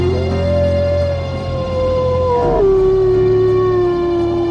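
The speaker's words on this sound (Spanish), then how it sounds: "Un coro de lobos aulladores saludó al alba." A chorus of wolves howling at dawn, with a long, loud, close howl that slides gradually downward in pitch, joined by overlapping layered howls and a steady low rumble beneath.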